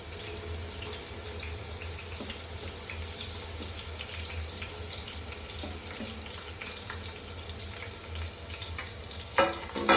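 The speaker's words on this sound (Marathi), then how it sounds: "हा कांदा फ्राय करून घेऊयात." Chopped onion frying in hot oil in a pan while cooking chicken biryani, a steady close crackle and sizzle running throughout with a brief clatter near the end, no talking.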